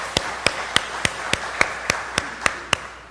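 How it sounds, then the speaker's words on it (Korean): Hands clap in a church congregation in an evenly spaced, slow rhythm of about ten sharp, distinct claps, fairly close and moderately loud over a quiet background. "하나님께 영광의 박수 올리겠습니다"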